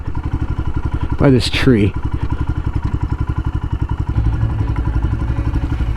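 A Royal Enfield Himalayan motorcycle idles close by with a steady, thumping single-cylinder beat, while someone speaks over it briefly.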